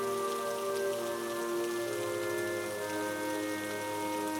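Steady heavy rain pouring down on a surface, a dense constant hiss, with sustained musical tones underneath.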